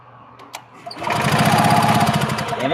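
An engine cranks over with a rapid, steady chugging rhythm that starts abruptly after a second of near quiet and a couple of clicks, loud and close in a garage.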